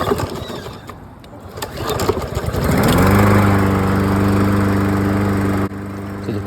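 Troy-Bilt lawn mower engine fitted with a cheap Amazon carburetor, running warm after about five minutes, a loud close steady drone that rises partway through and holds with a slightly uneven rhythm.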